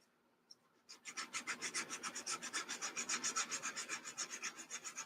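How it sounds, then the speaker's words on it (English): Rapid back-and-forth sanding strokes on the plastic seams of a Monogram 1/72 B-36 model kit, a close, rhythmic rasping of about four strokes per second after a faint tap and brief scrape. "You guys get done sanding your seams out like this."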